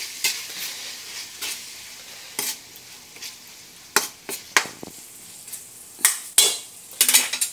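A spoon stirs tuna pasta in a frying pan, sharp scraping clinks against the metal arriving in irregular bursts, some louder near the end, over a faint sizzle with no talking.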